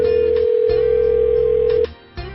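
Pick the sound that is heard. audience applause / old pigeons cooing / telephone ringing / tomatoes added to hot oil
telephone ringing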